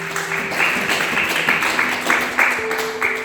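A church congregation claps loudly for Jesus during an evangelical service, a steady wash of many hands close by, with faint sustained tones underneath.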